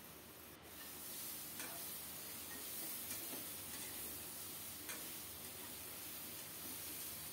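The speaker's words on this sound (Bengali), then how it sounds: "সুন্দর করে ভেজে নেব।" Potatoes and pointed gourd fry in a pan, a soft, steady sizzle and hiss with occasional faint scrapes as the pieces are stirred, low in level and with no voices.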